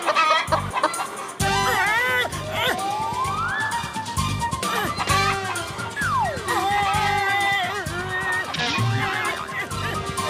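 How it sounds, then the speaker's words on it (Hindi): A cartoon hen clucks repeatedly in an animated Motu Patlu kabaddi episode, layered over loud music and sweeping siren-like sound effects. "सामने से मुर्गी आ रही है, वो हमें खा जाएगी।"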